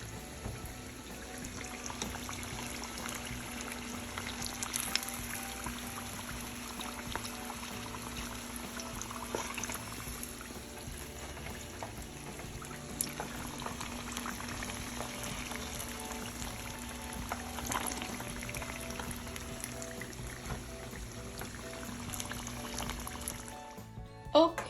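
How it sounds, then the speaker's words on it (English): Hot frying oil is strained off fried chicken wings, a continuous soft liquid pour running steadily at low volume for about twenty seconds. "strain the oil off"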